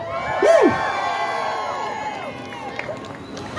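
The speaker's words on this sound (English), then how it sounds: "This is a big crowd," A large crowd at a Freedom Convoy rally in Halifax cheers and shouts, with a piercing whoop near the start and a sustained roar of voices that slowly fades.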